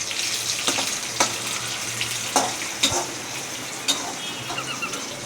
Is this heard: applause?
no